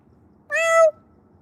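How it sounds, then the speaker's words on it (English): A single clear cat meow, close and fairly loud, about half a second long, with a quiet background before and after. "But yeah, Chano, let me see if I can find a kitty or two for you"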